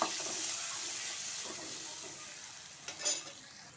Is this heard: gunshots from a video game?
no